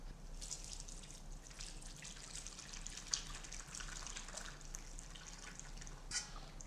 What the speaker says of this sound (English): we're going to strain this, and what we're left with now is essentially that very strong flavored umami stock